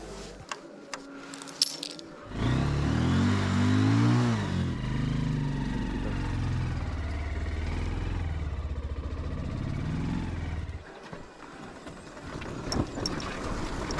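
A motorcycle engine idles on a freezing winter morning, a loud, steady low rumble that starts, runs for about eight seconds and then cuts out, leaving quiet handling noises.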